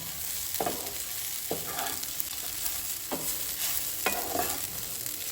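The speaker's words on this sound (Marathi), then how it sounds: "लो फ्लेमीचेरूच भाजून घेवपाचें" Soya chunks dry-roasting in a pan over a low flame give a steady soft sizzle, broken by four spaced scraping stirs of a spatula across the pan, with no talking.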